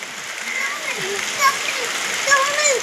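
Moderate rain falling steadily in Tirunelveli, a constant wash of patter and splashing, while a voice speaks intermittently over it.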